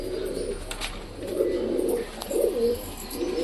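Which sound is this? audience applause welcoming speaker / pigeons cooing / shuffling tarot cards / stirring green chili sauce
pigeons cooing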